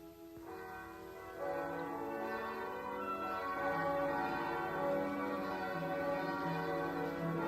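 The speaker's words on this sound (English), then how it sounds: "Bells. Why are they ringing?" Church bells ring out steadily and fairly loud, their overlapping tones swelling and sustaining with no voices present.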